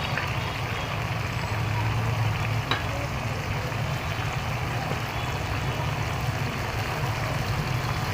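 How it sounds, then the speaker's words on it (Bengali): Flat beans hitting hot white oil in a wok, a steady dense sizzle and frying hiss that carries on without a break, close and moderately loud. "কড়াইতে সাদা তেল দিয়েছি, তেল গরম হয়ে গেছে। এবারে সিমটা দিয়ে দিচ্ছি।"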